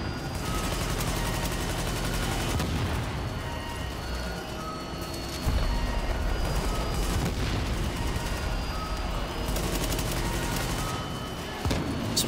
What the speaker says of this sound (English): they're just launching grenades at us